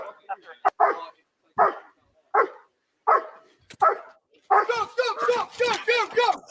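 A police dog barks in sharp, loud bursts at an arrest scene, with evenly spaced single barks followed by a rapid frantic run of barking. The barking is close and dominant, with no talk heard.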